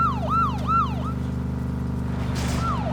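Police siren in a video game: quick repeated yelping wails sound loudly at first, pause, then return briefly over a constant low rumble, with a short burst of noise near the end and no talking.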